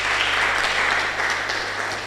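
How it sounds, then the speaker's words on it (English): Audience applause for a speaker at a healthcare conference on artificial intelligence, a steady, dense wash of clapping held at even loudness throughout, with a low constant hum beneath. "Please, a round of applause for Dr."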